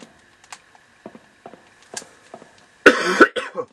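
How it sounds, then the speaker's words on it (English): A single loud, harsh cough from a character in the horror video game Haunting Ground, preceded by scattered soft clicks and taps, then brief trailing sounds. "That was a vibrant cough."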